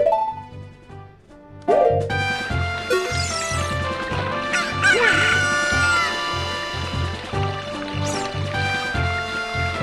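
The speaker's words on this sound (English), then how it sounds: "The sound of a newborn chicken wakes you up" A cartoonish rooster crow from The Legend of Zelda: Ocarina of Time, a long, loud, buzzy cock-a-doodle-doo that rises sharply, then holds with clucking game sound effects and music beneath it.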